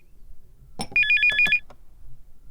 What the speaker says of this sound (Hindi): कितनी देर से फोन बज रहा है